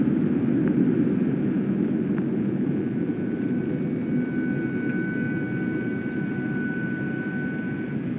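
In the video game The Invincible, a lander craft flies with a steady, droning engine roar that holds evenly throughout, with faint high whining tones above the hum.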